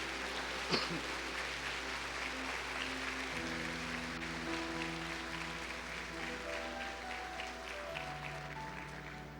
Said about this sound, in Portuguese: Então dá uma salva de palmas bem forte para Jesus.